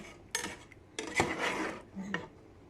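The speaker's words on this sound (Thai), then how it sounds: "กุ้งของเราได้แล้วนะแล้วก็จะมาตักใส่ผักหอมของเราเลย" Cooked shrimp being scooped with a utensil onto fragrant herbs for a Thai salad, a few close scraping clinks of spoon against a dish in short separate bursts, fairly quiet.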